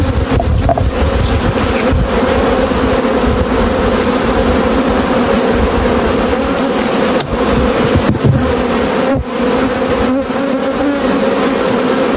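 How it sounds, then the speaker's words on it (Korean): A dense, loud swarm of honeybees buzzing continuously up close while being handled at a hive, with a few brief knocks and no talk. "통에다가 제가 꿀벌을 담을 겁니다."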